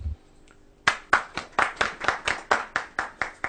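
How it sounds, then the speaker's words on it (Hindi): A small audience at a Diwali evening poetry gathering claps to welcome the poets: a brief quiet pause, then about a dozen sharp, evenly spaced hand claps in a steady rhythm, close and fairly loud. "एक बार जोरदार स्वागत करते हैं तालियों"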